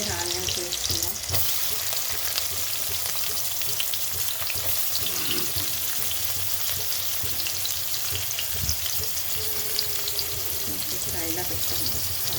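Onions sizzling steadily in light oil in a pan on the stove for a fish gravy curry, a dense continuous frying hiss with occasional stirring scrapes, close and fairly loud throughout.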